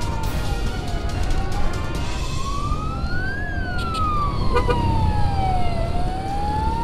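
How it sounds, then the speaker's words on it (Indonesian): An ambulance siren wails, rising and falling slowly, loud over heavy traffic rumble and road noise, as if from a vehicle close behind. "kayaknya ini ada 2 sirine guys di belakang"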